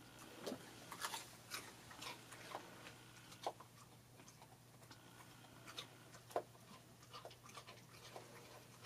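A dog crunches and chews raw cauliflower in quiet, irregular bites, with soft panting between the crunches.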